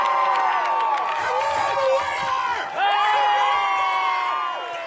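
A crowd at an Alan Doyle lookalike contest cheers and whoops, many overlapping shouting voices forming a loud, sustained wall of excitement that dips briefly midway and then swells again.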